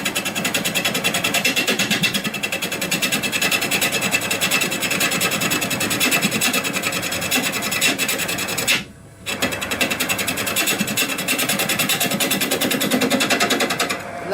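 Wood being turned on a lathe, a continuous loud rasping scrape as the tool cuts the spinning workpiece, broken by one brief pause before resuming close by.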